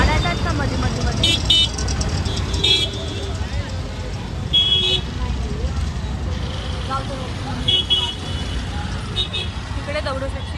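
Busy road traffic near Dagdusheth temple in Pune, with a steady rumble of cars, buses and motorcycles and several short horn toots sounding close by. Voices talk over the street noise.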